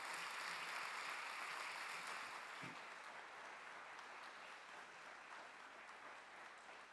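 Audience applause after a live music performance at a gathering, a broad, steady wash of many hands clapping that carries on for the whole stretch and eases off only slightly toward the end.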